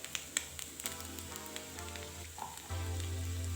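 Omena fish sizzle and fry in a pan, a faint steady crackle with scattered pops, before a low rumbling hum comes in near the end.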